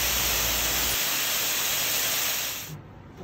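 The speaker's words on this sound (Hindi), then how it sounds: "एक टेबल स्पून के करीब ऑलिव ऑयल डाला है और उसमें मशरूम्स डाल दिए, और बस अब मैं सॉटे कर रही हूँ इनको" Mushrooms sizzle in about a tablespoon of olive oil in a pan, a loud, steady close hiss that drops off sharply near the end.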